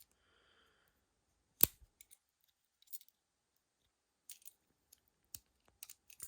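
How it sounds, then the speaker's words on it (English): Small Victorinox scissors on a keychain multitool snip several times, faint crisp clicks spread out with quiet gaps between them. "Nice pair of Victorinox scissors."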